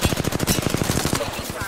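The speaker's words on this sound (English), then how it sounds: "Here I go, getting shot in the back." Rapid automatic gunfire in an Apex Legends duos match, a fast steady stream of about a dozen close, loud shots tapering off at the end.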